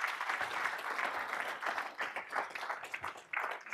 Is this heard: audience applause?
yes